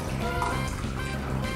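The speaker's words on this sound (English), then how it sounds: "I'm just pouring myself some water here" Water trickles steadily into a glass for a brief moment, a soft liquid fill heard close against low background music.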